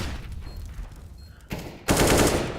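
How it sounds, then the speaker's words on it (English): Gunfire in a professional CS:GO esports match: bursts of rapid shots with a loud final volley, close and sharp, with no talking. "This Proto trades out for a headshot."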